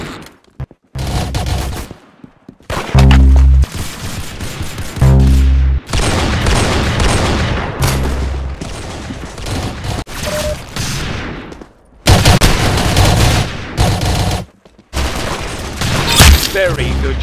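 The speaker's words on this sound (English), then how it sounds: "Very good shooting." Rapid gunfire from the Roblox shooter game Arsenal, with repeated bursts of automatic weapon shots and booming blasts over about seventeen seconds, loud and close, broken by brief pauses.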